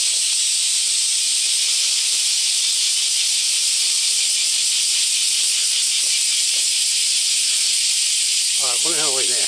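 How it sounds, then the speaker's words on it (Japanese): Cicadas singing in a summer park beside a concert hall in July, a dense continuous high buzzing drone that stays loud and steady, with a brief voice near the end. "蝉の声をちょっと撮ってみましょうかね。"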